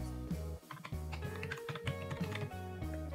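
Rapid keystrokes on a computer keyboard while typing a biodata in MS Word, a steady run of close, light clicks over a constant low hum.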